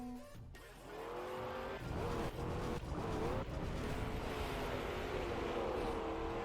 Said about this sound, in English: Desert car on snow